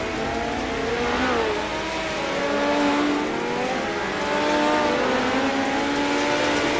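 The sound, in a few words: race cars racing at the Chili Bowl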